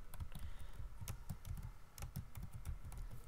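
Rapid, irregular clicks of a computer keyboard as a name is typed, heard close and quiet with no talking.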